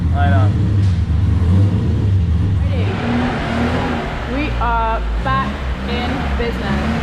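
Lada drift car engine revving during tandem drifting against a V8, the engine note loud and fluctuating with rising and falling pitch, mixed with other engine noise and people talking over it.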